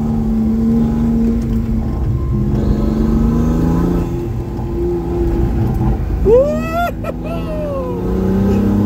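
A race car engine on a track hums and climbs through the gears, with a pronounced revving sweep near the end, while a voice talks over it.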